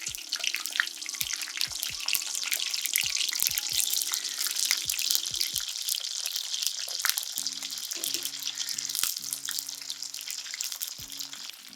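Sliced ladies finger (okra) fries in hot oil with a steady, close crackling sizzle throughout, dotted with sharp pops and a low bubbling hum, with the occasional stir.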